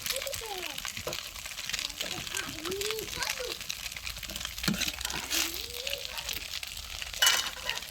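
Food fries and is stirred in a pan, giving a steady low sizzle with scraping now and then. It sits under close, animated conversation and a voice.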